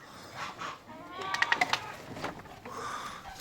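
A flock of sheep in a barn at lambing time gives a few bleats at a moderate distance, with a brief rapid cluster in the middle over a low background murmur.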